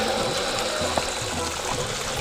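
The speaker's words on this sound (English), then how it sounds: "This is the waterfall" A powerful hidden waterfall in Idaho, a dense, steady roar of rushing water heard up close, filling the whole moment without letup.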